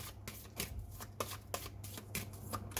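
Tarot cards are shuffled by hand in a series of crisp, riffling bursts repeating at a steady rhythm, close and clear over a faint low hum.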